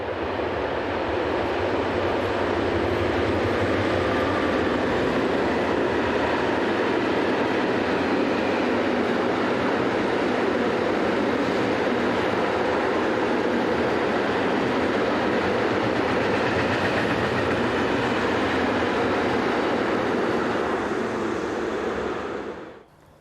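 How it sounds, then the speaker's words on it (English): Locomotive 11617 hauls a train of oil tank wagons eastbound near Rheinfelden in the early morning, a steady, loud rolling rumble of wheels and wagons sustained throughout before easing off at the very end. "In this view we see 11617 heading east at 7:30 in the morning with a train of oil tank wagons."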